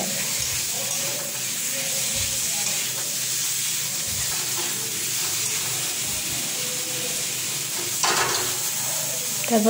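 Potatoes sizzle and crackle in a hot pan, with a spatula scraping and stirring through them in a steady, close hiss and a few brief louder scrapes near the end.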